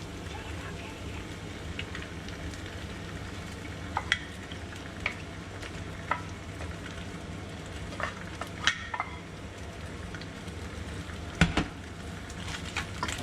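Chilli and ginger sand crabs stir-frying in a pan, a steady low sizzle with scattered clinks and scrapes of the utensil against the pan as they are mixed through, close and moderately quiet.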